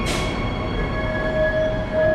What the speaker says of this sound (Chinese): 我们火车来啊！